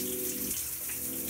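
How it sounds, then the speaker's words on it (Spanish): Water from a home tap in Mexico, a steady close rushing and spattering that fills the whole short moment without any talk. "Voy a prender el agua"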